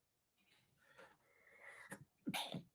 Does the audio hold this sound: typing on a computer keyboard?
no